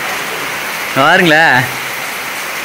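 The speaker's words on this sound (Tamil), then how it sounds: "அப்பா, சரியான மழைங்க" Heavy rain pours steadily on a hill, a dense, loud hiss that fills the whole stretch, while someone briefly speaks over it.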